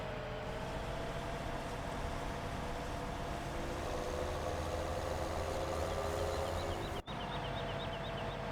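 Tractor engine idling in Farming Simulator 17, a steady low mechanical hum that runs unchanged throughout, briefly dipping near the end.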